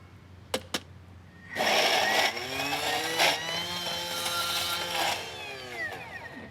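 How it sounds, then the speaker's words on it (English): A blender purees cooked cauliflower in a kitchen, a loud whirring motor starting after two brief knocks and running steadily with shifting, rising pitch for several seconds before easing off. "Gonna get that into the blender."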